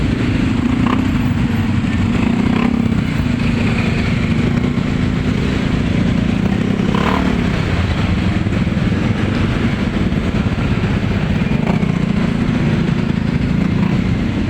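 Heavy, slow-moving morning traffic of motorcycles and cars on a congested road, a loud continuous rumble of idling and creeping engines close by, with no one speaking.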